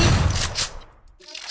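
Gunfire from a shooting video game, a dense burst of shots up front that fades into a short pause before a few softer follow-up sounds.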